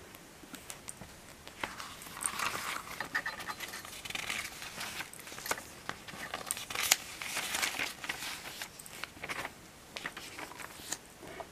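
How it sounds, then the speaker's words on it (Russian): Pages of a stiff paper Faberlic beauty catalog (issue 17, 2019) are flipped and crinkled nearby, with papery rustles and crackles running continuously in uneven bursts and no talking. "Так, начинается уже плохо листаться, потому что к концу всегда плохо листается."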